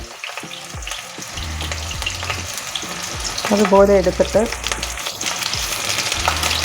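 Salt-soaked brinjal slices frying in hot oil, a loud close crackling sizzle with a few utensil knocks, while someone talks over it.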